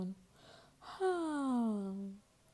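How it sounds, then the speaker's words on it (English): A voice acts out a kitten's drawn-out yawn for a bedtime story, a soft breathy intake followed by a falling, stretched vocal sigh, close and quiet. "rubbed their eyes and started to yawn"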